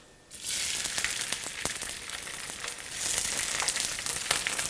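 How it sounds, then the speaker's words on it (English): Salmon laid into a smoking cast iron skillet with olive oil, a sizzle that starts abruptly and holds steady, dense crackling and spattering pops up close, growing a little louder toward the end. "once your pan starts to smoke, you're going to add your salmon into the pan"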